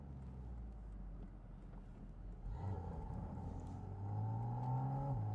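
A Porsche 718 Spyder RS engine, driven open-top on Cup 2 tires in cold weather, rumbles steadily and then climbs into a rising, revving whine as it accelerates. The pitch keeps building toward the end.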